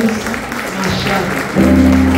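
A church congregation at an Assembly of God service applauds steadily, the clapping swelling louder partway through, with a voice speaking over it.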